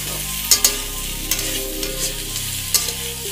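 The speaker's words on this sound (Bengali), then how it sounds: "আলুগুলো ভালো করে নেড়ে নেবো" Chopped potatoes fry in a pan under a constant sizzle, with several sharp knocks and scrapes of a utensil stirring against the pan at uneven intervals.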